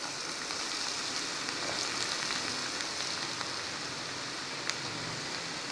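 Pieces of a homemade evening tea snack fry in hot oil with a dense, even crackling sizzle that holds steady throughout, broken by one brief clink near the end.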